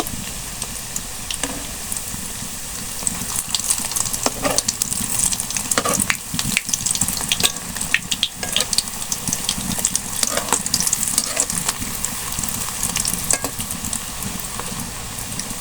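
Chicken tikia kebabs sizzle and crackle steadily in hot oil, with occasional louder spits and pops throughout.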